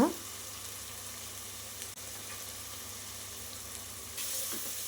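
Turmeric and chilli powder sauté in hot oil for a banana-flower biryani, giving a steady, faint hissing sizzle throughout, with a brief clatter at the start and a slightly louder sizzle near the end.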